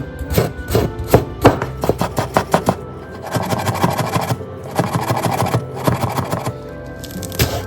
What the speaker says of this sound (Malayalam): ഇഞ്ചി ഫൈനായിട്ട് ചോപ്പ് ചെയ്യാം കേട്ടോ